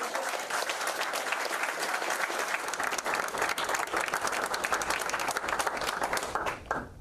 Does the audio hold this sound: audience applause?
yes